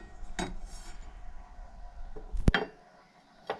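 A steel blade is fitted onto a Honda HRB 536 walk-behind lawn mower during servicing: quiet metallic handling noises, then one sharp clank near the end.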